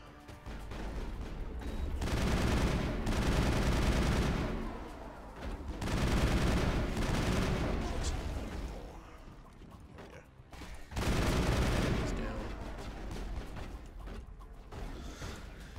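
Gunfire in the video game Mass Effect comes in three long, loud bursts of rapid shots, separated by brief quieter lulls.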